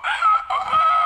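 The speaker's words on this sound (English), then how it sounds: "that cockerel's been crowing all morning" A cockerel crows once in a short, loud, close cock-a-doodle-doo lasting about a second, with a brief dip in the middle before the drawn-out final note.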